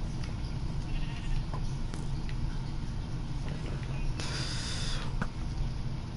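A sheep in the blocky survival game Survivalcraft gives a brief bleat partway through, heard against a steady murky background with no talking.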